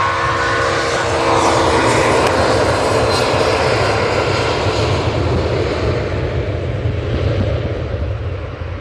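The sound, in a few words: airliner jet engine noise at airport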